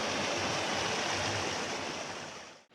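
A waterfall roars as a constant broadband rush, steady and full, then thins and cuts out near the end with no voices.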